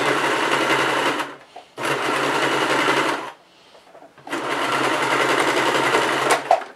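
A sewing machine stitches a fabric dice bag in three sustained runs, a close, even whirring chatter of the needle, separated by short pauses with faint handling noise.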